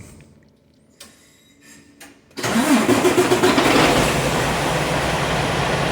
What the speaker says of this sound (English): If you start the engine, it will have no problem.